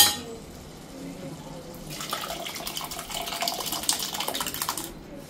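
Cooked dal being poured into a cooking pot: a faint knock, then about three seconds of close, splashy liquid pouring that thins out at the end.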